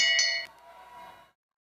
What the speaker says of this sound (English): So bell laps have gone off.